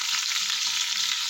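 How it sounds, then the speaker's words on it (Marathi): Eggplants fry in oil for masala vangi, giving a loud, steady, close sizzle that goes on without a break and with no talk over it. "मस्त तेलामध्ये वांग असं परतलेलं आहे एक साईड"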